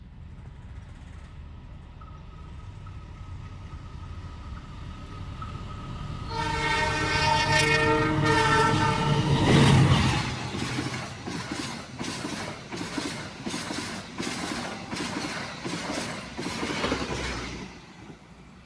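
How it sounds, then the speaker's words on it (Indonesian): Lodaya train speeding through Sumpiyuh station in Indonesia: a loud horn blast with layered tones rises over rumbling wheels, then the clattering, rhythmic roar of the passing cars continues steadily to the end. "Itulah barusan kereta api Lodaya melintas di stasiun Sumpiyuh"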